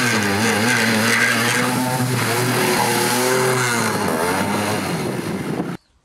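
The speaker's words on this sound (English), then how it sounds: "The chain is pretty noisy." A noisy scrap motorbike chain on a DIY electric big wheel, a loud close continuous whirring and rattling drone with shifting pitch that cuts off abruptly at the end.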